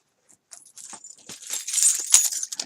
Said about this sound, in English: Or I guess I could jingle some keys.